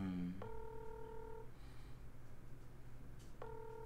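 An outgoing phone call goes unanswered: a low ringback tone repeats twice with a gap between, faint and close, under a soft background hum.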